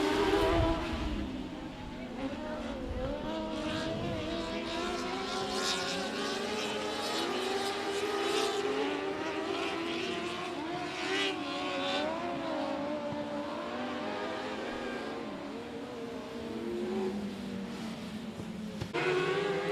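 Race cars at 105 Speedway go back to racing after a caution, engines whining and rising and falling in pitch as the pack passes, fairly faint and distant, with a steady crowd-and-track wash behind.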